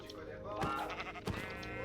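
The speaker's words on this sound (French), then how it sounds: "il y a encore un mouton ici" Sheep bleating in Minecraft, two short wavering bleats close by, heard faintly over background game sounds, with someone speaking French in the clip.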